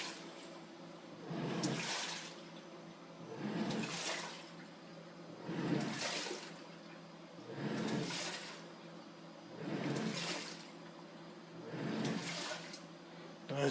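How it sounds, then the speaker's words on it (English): A Magic Chef portable washer with a 1.6 cubic foot drum sprays and sloshes water as it washes, with soft rushing surges that rise and fall in a regular cycle about every two seconds. "As you can see, it actually sprays water in there as well as it washes."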